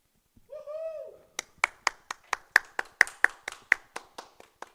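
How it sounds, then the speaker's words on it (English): Commentators clapping at a dart tournament, about fifteen sharp, evenly spaced claps close by, preceded by a short whooping vocal cry. "And the crowd goes wild. Well, not the crowd, but Sean and Nick did, that's for sure"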